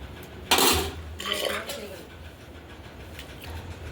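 A metal lid set down onto a pot of fish curry cooking over a wood-fired stove, a sharp clatter followed by a softer scraping settle, close by.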